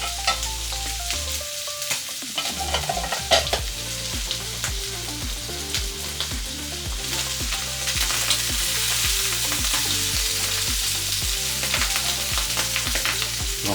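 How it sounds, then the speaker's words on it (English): Sausages sizzle and spit steadily in a hot frying pan, a loud continuous crackle with occasional stirring scrapes and no talking. "sausages have been fried until they're slightly crispy"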